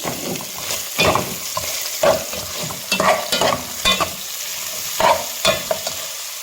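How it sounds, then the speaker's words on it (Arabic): Onion and meat fry in a pan while being stirred, a steady sizzle broken by repeated scraping strokes of a utensil at an uneven rhythm, close and clear with no talking. "هسه نخلي البصل هذا نخمسه اللحم"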